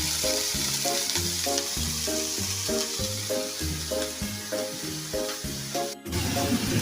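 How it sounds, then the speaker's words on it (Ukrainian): Cabbage and onion frying in oil, a continuous close sizzle under a looping musical backing track, with no one speaking. "Обсмажуємо капусту і цибулю на олії."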